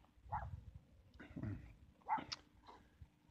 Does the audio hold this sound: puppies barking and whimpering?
yes